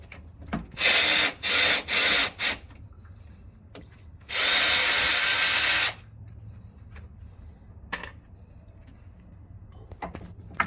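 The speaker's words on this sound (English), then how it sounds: "Go get the drill." Power drill whirring in several short bursts, then one long sustained run, while removing damaged Taramps and Fi car subwoofers; quiet gaps with faint handling noises between the bursts.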